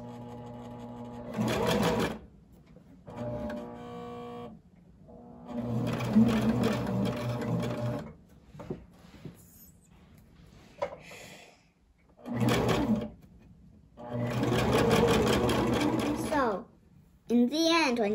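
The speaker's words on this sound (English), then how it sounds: "I'm gonna push the pedal with my foot." Domestic sewing machine driven by a foot pedal, stitching in several separate bursts of steady whirring and rapid needle clatter with pauses between, at close range and loud.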